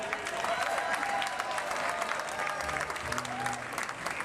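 Sustained audience applause greeting the 2007 Minnesota Music Hall of Fame inductees, dense clapping and crowd noise, with faint voices underneath.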